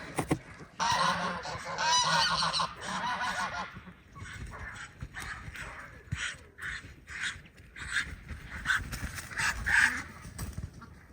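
Farmyard geese honk loudly and close, a dense overlapping burst of calls followed by a string of separate honks that rise and fall, with no talk heard.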